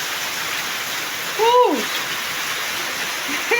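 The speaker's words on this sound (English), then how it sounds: "we are welcoming the rains" Rain pours steadily in a village after months of heat and dust, a loud, dense rush throughout, with a brief excited shout from a person partway through.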